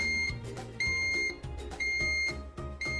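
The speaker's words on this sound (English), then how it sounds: "The LED display counts down the remaining cooking time and beeps to tell you cooking is done." An electric pressure cooker from a kitchen gadget roundup beeping when cooking is done, several short, bright electronic tones in an uneven pattern over a low, busy background of music or noise.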